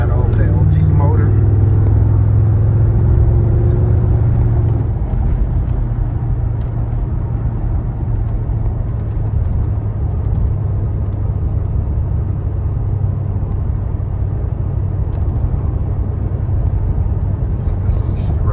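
A 1995 Chevy Impala SS with an LS engine swap runs and drives, its engine giving a steady low rumble with a deeper drone early on, under continuous talking.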